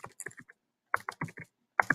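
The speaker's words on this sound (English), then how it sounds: "my typing is a little wacky today" Typing on a computer keyboard: quick clusters of close, crisp key clicks broken by short pauses, with no one talking.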